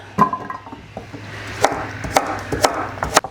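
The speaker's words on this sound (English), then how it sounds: "we're just basically going to cut these up in rustic chunks" A knife chopping garden vegetables into rustic chunks on a wooden board, several sharp isolated chops spaced about half a second apart, close and clear over quiet kitchen background.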